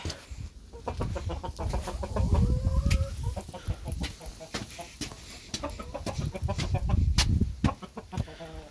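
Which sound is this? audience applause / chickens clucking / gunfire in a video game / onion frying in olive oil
chickens clucking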